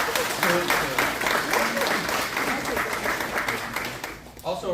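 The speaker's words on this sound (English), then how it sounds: "Round of applause for the folks that" An audience at a Saturday morning community pancake breakfast fundraiser against fentanyl applauds in a dense, continuous round of clapping lasting several seconds.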